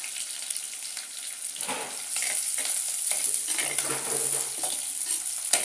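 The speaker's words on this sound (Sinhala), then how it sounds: "මේක පොඩ්ඩක් මෙහෙම බැදෙන්න තියෙනවා" Garlic and spices frying in hot oil in a pan while being stirred, a continuous bright sizzle with occasional scraping of the spoon, close and fairly loud, with no talk over it.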